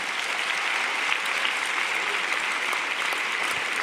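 An audience at an evening masters graduation ceremony applauds administrative staff, a dense, steady burst of clapping from many hands that holds evenly throughout.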